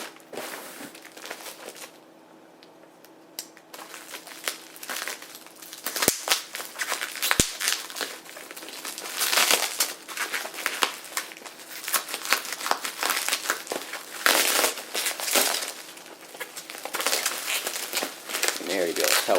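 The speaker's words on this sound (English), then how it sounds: "this seller actually used real packing material inside of it, instead of just an anti-static bag" Packing material crinkling and rustling during the unboxing of fire alarm devices, close and loud in long uneven bursts, with a quieter stretch near the start.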